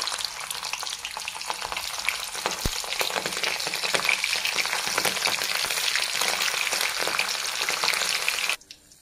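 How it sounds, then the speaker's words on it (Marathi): Paneer cubes frying in hot oil in a pan for palak paneer, giving a steady, dense crackling sizzle that holds evenly for several seconds and then drops away abruptly. "पण दुसऱ्या पण पनीर असं तळून घेऊ"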